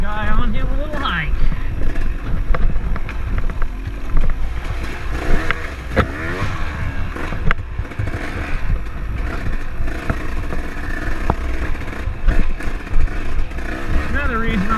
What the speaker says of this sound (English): Another reason I'll never switch to a 4-stroke. This 2-stroke is so nice and quiet.